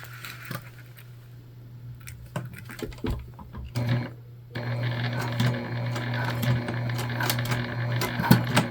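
A home sewing machine stitching a fabric key fob wallet, stopping and starting in short bursts and then settling into a steady, fairly quiet mechanical whir with small clicks, close up.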